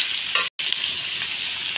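Chopped potatoes fry in a pan as ginger-garlic paste goes in, a continuous close sizzle of hot oil, broken by a brief dropout near half a second and dotted with faint scraping stirs.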